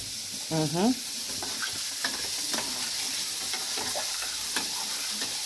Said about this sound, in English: as that milk is simmering away, oh, I'll just give that a stir.